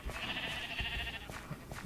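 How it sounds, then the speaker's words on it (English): Sheep bleating in Minecraft, a farm-building video game: one sustained, wavering bleat lasting over a second, fairly close and clear, followed by faint blocky footsteps and game noises. "We also have some cattle and sheep."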